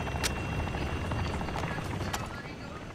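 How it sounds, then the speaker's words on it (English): An attack helicopter in the Call of Duty DMZ video game thrums as it approaches, a dense rotor rumble with sharp periodic blade slaps, loud and continuous over game noise. "enemy attack helo is heading your way"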